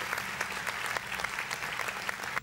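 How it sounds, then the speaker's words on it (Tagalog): Studio audience claps loudly and continuously, a dense patter of hands that keeps going without a break for the whole short stretch. "Grabe naman palakpak. Tumigil na kayo."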